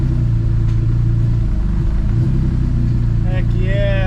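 A stroker V6 engine idles in a Honda Civic after a new clutch install, giving a steady low rumble up close as a voice talks over it.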